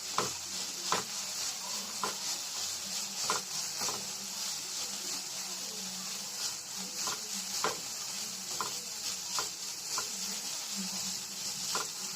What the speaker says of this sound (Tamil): இதை சேர்த்துக்கலாம் அப்படின்னு சொல்லிட்டு வதக்கிக்கலாம்